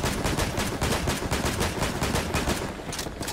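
Sustained rapid gunshots in Fortnite, a steady stream of evenly spaced automatic shots for several seconds, loud and close with no voices over it.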